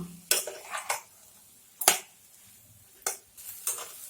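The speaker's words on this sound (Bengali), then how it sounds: "দিয়ে দিব সয়াবিন আর আলু। ভালো করে মিলিয়ে নেব।" Soybean chunks and potato pieces are stirred into a pan of frying spice masala, with several sharp scraping and clattering strokes of a spoon against the pot, spaced by quiet gaps and a faint sizzle.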